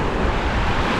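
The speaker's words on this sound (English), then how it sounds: "it's so calming to just hear the waves" Waves wash onto the beach at Pattaya in a loud, steady surf roar, with heavy wind buffeting the microphone.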